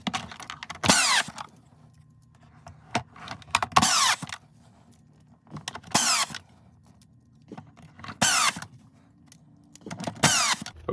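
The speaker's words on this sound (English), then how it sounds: "And then I'm going to go ahead and put all the rest of the screws in real quick." Screws are driven back into a Miele C1 / Titan vacuum cleaner housing during a motor replacement: five short, evenly spaced whirring bursts of a driver, with quiet handling clicks between them and no talk.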